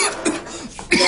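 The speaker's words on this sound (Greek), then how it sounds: "Όταν με πιάνει ο βήχας, δεν με αφήνει" A person coughing, a few rough, harsh bursts up close with a brief gap between them and a final louder cough.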